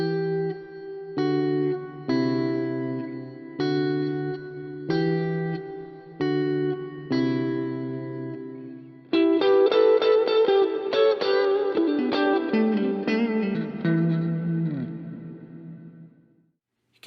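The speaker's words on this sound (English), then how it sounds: "So here we have my ultra high quality reverb preset and a bypass delay block." A guitar plays through a high-quality hall reverb preset, with a bypassed delay block. It opens with separate repeated chords that ring out, then moves into a busier, dense passage, and a large lush tail decays at the end.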